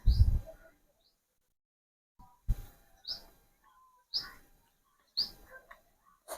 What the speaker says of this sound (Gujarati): મસ્ત મજાનો પક્ષીઓ નાનો કલરવ નો અવાજ આવે છે અહીંયા